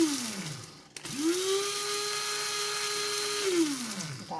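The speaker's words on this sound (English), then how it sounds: "I have just added flaxseed to my grinder, and I'm going to grind that up so I can make my egg substitute." Electric grinder whirring as it grinds flaxseed, revving up to a steady high whine after a brief stop and restart, then winding down, close and alone.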